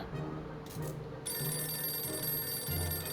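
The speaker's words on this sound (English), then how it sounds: "Who the fuck's ringing the phone?" A telephone rings in repeated electronic bursts with short pauses between them, set against a steady high-pitched hum, in the video game 60 Seconds.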